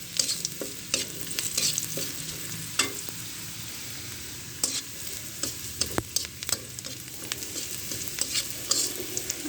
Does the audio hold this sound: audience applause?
no